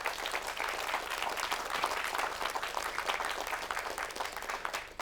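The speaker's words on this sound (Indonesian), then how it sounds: "Tepuk tangan buat Bu Hesti." A sustained wash of audience applause at a religious talk show taping, steady and fairly loud throughout, many hands clapping together with no voices rising above it.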